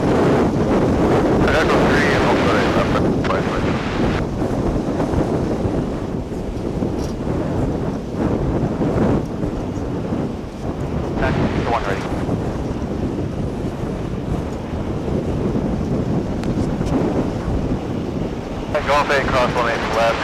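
Strong wind buffets the microphone at DFW Airport's Founders Plaza, a steady loud broadband rush with gusty swells that stays up for the whole stretch.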